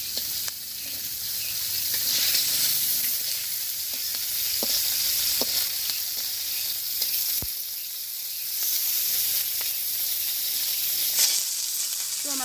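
Fish sizzles and spits while frying in hot oil in a pan during a simple Bangladeshi village meal, a steady close hiss with occasional louder crackles and pops throughout.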